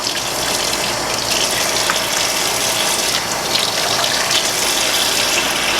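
Warm water gushes steadily from a tap into a sink, a loud, even rushing hiss that continues without pause.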